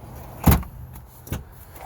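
A 2021 Toyota Sienna's kick-activated power sliding door gives a sharp thud near the start, then a softer click and mechanical whir later, brief and close.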